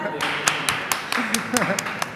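Several hands clap in a loose, uneven rhythm, sharp close-up bursts roughly every quarter second, with a voice talking over them.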